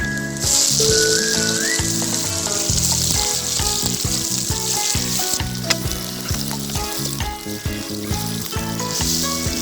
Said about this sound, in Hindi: अब हम इसमें टमाटर डालने लगे हैं।